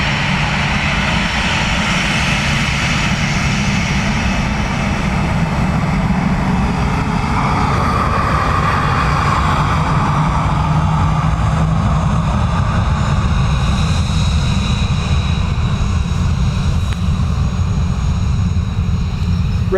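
A Ryanair airliner lands on runway 28 left at Dublin Airport with a loud, sustained engine roar that swells and holds steady throughout, with no talk.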